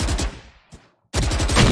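Rapid bursts of video game gunfire crackle loudly at the start, fade into a brief lull with a single faint shot, then a dense, loud volley of shots resumes to the end.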